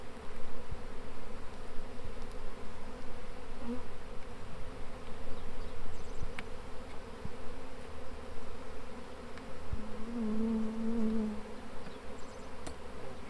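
Honey bees buzz continuously at close range around a swarm trap, a steady mid-pitched hum with occasional small knocks and handling sounds.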